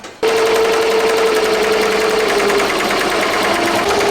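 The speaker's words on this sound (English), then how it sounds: "I'm going around 800 stitches per minute" A 15-needle MT 1501 embroidery machine runs steadily at about 800 stitches per minute, a loud, continuous, fast mechanical chatter that starts abruptly and holds an even rhythm throughout.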